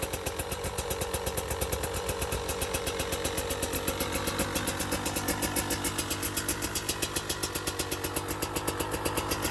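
A 2020 KTM 300 XC TPI two-stroke motorcycle engine idles after a -2°C cold start, with a steady, rapid, even putter close by and no other sound over it.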